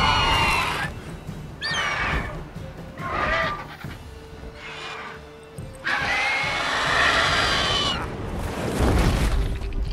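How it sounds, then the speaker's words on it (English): A horse in The Witcher 3 video game neighs in several loud, shrill whinny bursts spread across the stretch, with gaps of quieter game ambience between them. "I feel bad for that poor horse."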